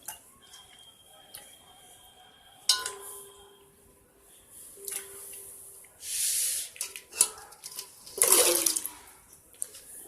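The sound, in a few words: Indian gooseberries (amla) being put into plain water to soak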